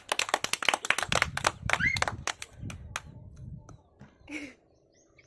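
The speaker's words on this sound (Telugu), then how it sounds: "క్లాప్స్ కొట్టండి రా, క్లాప్స్ కొట్టండి" A group of people claps hands in a quick, dense burst of sharp slaps lasting a few seconds, then a few scattered claps trail off, with a brief voice at the end, during a vegetable guessing game where sweets are won.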